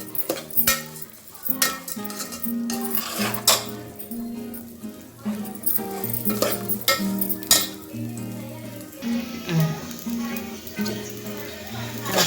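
Vermicelli roasts in a hot pan, stirred with a utensil that scrapes and clinks against the metal under a faint sizzle, while background music plays throughout.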